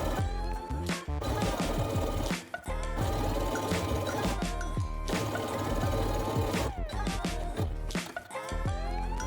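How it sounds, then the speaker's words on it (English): A sewing machine stitching fabric seams with back and forward stitching, a dense close mechanical rattle running almost continuously with a few brief pauses. "Don't forget to do some back and front stitching on the beginning and also on the end, just to secure the seams and sew with a straight line."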